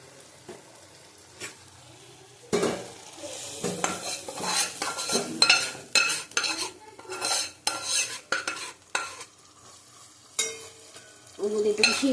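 Yogurt- and salt-marinated chicken going into a hot pan, giving intermittent sizzling and frying bursts mixed with stirring and clinks of a metal utensil against the pot, loud and close, with quieter gaps between.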